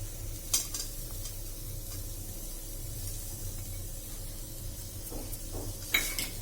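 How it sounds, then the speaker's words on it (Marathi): Jaggery being stirred in a pan as it melts, a faint, soft scraping and low sizzle with a couple of light utensil clinks against the pan. "आता आपल्याला गूळ छान मेल्ट होईपर्यंत याला हलवत राहायचं आहे"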